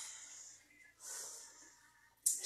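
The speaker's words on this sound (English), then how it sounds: "We're going to definitely start with some breathing exercises." Breathing exercise during a yoga session: long, airy breaths in and out with a soft wheezy hiss, two sustained exhales followed by a sharper, louder burst of breath at the end, close and without talk.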